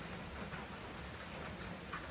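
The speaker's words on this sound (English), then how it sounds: "It's like 11 degrees, and heavy rains!" Heavy rain falls steadily on and around a balcony on a cold, grey summer day, a soft, even, continuous wash of noise at low level with no talk.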